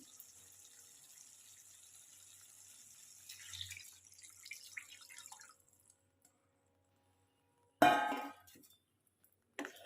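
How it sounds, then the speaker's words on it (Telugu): A small amount of water is poured into a crab curry that has been simmering with masala, heard as a faint, brief trickle followed by a louder splash and a short clink, with quiet gaps between. "కొద్దిగా వాటర్ యాడ్ చేసుకోండి."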